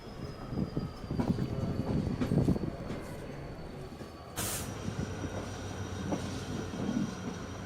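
A train rumbles steadily along the rails through the Rann of Kutch desert, a low continuous roar with a sudden sharp burst of noise partway through. No one speaks.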